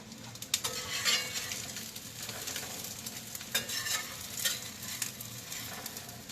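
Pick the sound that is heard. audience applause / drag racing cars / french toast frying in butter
french toast frying in butter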